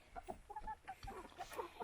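A rooster on a farm clucks in short, rapid, close notes, fairly quiet, with no talking.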